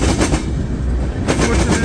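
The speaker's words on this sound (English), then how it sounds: "Switching into some gondola cars" A freight train switching onto gondola cars loaded with huge boulders rumbles loudly and steadily, with heavy metallic clatter and banging from the cars close by.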